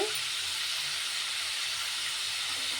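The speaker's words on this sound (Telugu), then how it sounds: "ఉల్లిపాయలు వేసుకుందామండి వేసానండి వేగుతున్నాయండి" Onions fry in hot oil with a loud, steady, dense sizzling hiss that continues without a break.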